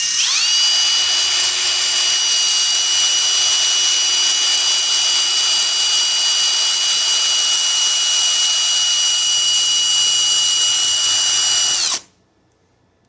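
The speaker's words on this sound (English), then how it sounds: "Get yourself a little corded or cordless drill." A small bench drill runs steadily for about twelve seconds while a flat-faced diamond file rounds off the edge of a BCG ejector, a loud continuous high whine that cuts off abruptly at the end.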